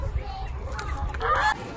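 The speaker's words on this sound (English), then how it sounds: "It's a fucking chicken." A chicken squawks and clucks in a few rough, honking bursts close by, louder toward the end, with a faint murmur behind it.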